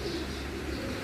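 Pigeons coo in a soft, steady low murmur, close and continuous through the short moment, with no talking over it.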